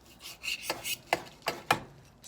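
A knife slices through baked corned beef in several firm strokes, each giving a short rasping cut with a soft thud against the board, close and fairly quiet.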